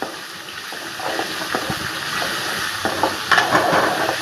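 Ingredients sauté in a pan over the stove, with a hiss and crackle that grows slightly louder as the clip goes on. Irregular stirring scrapes and small clatters break through the hiss.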